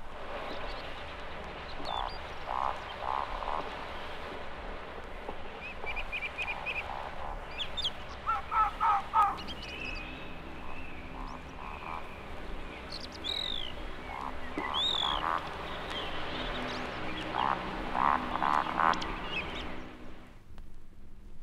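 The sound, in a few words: woodcock's strange amphibian-like call during roding display flight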